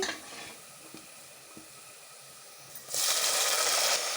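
Chopped tomatoes drop into a pan of frying onions for a brinjal curry, and a soft, steady background sizzle swells abruptly into a loud, bright hiss that lasts to the end, close by, with no voices.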